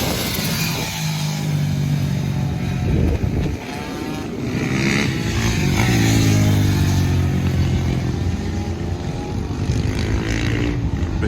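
A motorcycle engine revs loudly and continuously among a pack of riders on track, pitch climbing and wavering as it pushes toward the rev limiter, with other bikes droning close around it.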